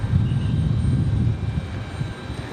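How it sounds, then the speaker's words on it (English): A Delta Embraer E175 regional jet taxiing at Raleigh-Durham International Airport, giving a steady low engine rumble that stays fairly loud and even throughout, with no talking. "We've got a Delta E175 making its way down there currently"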